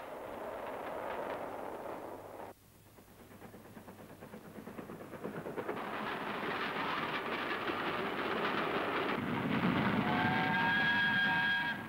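A South Wales coal train from the mines rolls along railway tracks, a steady rumbling run of wheels and wagons that builds over time, with a faint whistle-like tone near the end.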